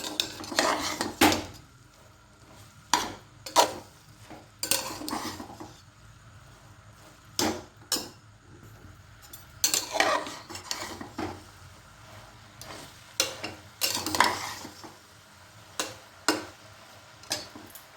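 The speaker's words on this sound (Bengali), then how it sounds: "আর একটু নেড়ে দেবো।" Vegetables for chowmein being stirred in a pan, with repeated metal spatula scrapes and clatters in irregular bursts over a quiet background.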